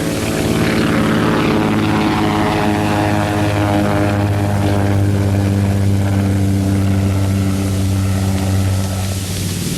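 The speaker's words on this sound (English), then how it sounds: "Taking the planes back aboard was an even more exacting operation than the launching." A loud, steady propeller engine drone with a low harmonic hum fills the whole stretch as a World War II aircraft lands on a carrier deck, staying close and even before easing slightly at the end.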